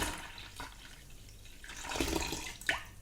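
Fresh red grape juice is poured into rhubarb wine, a faint liquid gurgle and splash that swells in irregular surges, quiet and close with no talking.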